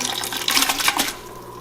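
Canned diced tomatoes with their juice poured into a cooking pot while making jambalaya for canning, giving a short wet splashing pour that rises and fades within about a second.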